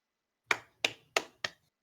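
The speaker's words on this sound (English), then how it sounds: "Golf clap, everybody! Golf clap." Four soft, sparse claps spaced evenly apart, each short and crisp with a quick decay, in an otherwise quiet space.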